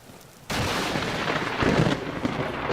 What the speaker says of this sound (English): That thunder literally hit the ground right beside me.